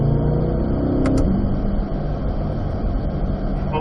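A C8 Corvette engine on a track drones loud and close, with a brief break near the shift into fourth gear before the engine note settles and pulls steadily again.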